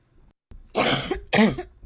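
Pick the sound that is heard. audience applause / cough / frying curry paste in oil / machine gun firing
cough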